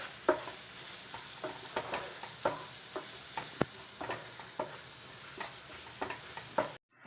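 Cauliflower fry with tomato and green chili sautés in a pan, a faint, continuous sizzle broken by regular spoon taps and scrapes as the mixture is stirred.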